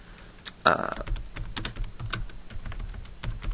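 Someone typing a folder name on a computer keyboard, with quick irregular key clicks, close and fairly crisp, plus a louder keystroke near the start.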